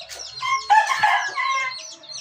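A pet rooster crows close by in a rural village, one full cock-a-doodle-doo with a sharp rising start and a long wavering tail, loud and clear against a quiet background.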